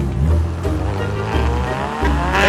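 A battered car with no doors drives in GTA 5, its engine roaring steadily up close with tire noise and shifting revs, no voices over it.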